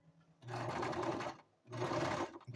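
Close, quiet sewing machine stitching a quarter inch shoulder seam on a toddler vest, running in two short whirring bursts with a brief pause between.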